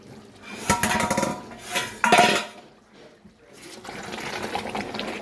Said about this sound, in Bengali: এখন এই যে ঢাকাটা খুলে দিই